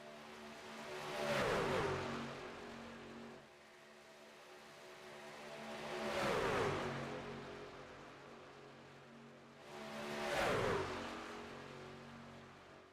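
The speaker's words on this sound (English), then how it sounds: "So we watch these trucks make their way around the track for the final time before qualifying gets underway" Racing trucks circling the track in a racing video game, three separate engine drive-bys that swell, peak and fade with a falling pitch, evenly spaced a few seconds apart, moderately loud with no talk.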